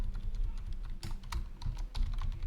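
Quick, uneven keystrokes clatter on a computer keyboard, close and fairly quiet, with brief pauses between bursts and no talking.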